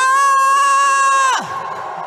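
A crowd at a political speech lets out a loud, sustained unified cheer for over a second, then it drops off sharply to a quieter murmur.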